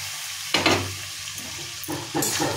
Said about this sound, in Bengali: আদা থেতোটা একটু ভাজা হয়ে যেতেই সিদ্ধ করে রাখা খেসার ডালটা ঢেলে দিচ্ছি